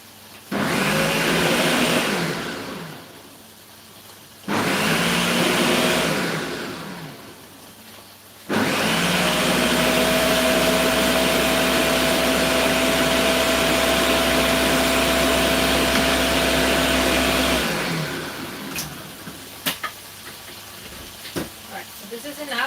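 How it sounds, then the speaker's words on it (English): A loud kitchen blender roars in three long runs during family meal prep, the last stretch the longest, each with a steady motor whine before cutting out. "my blender is a bit loud,"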